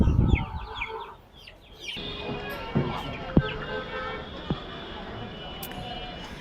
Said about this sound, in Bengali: এখানে খুব সুন্দর সুন্দর টাইগার মুরগির বাচ্চা আছে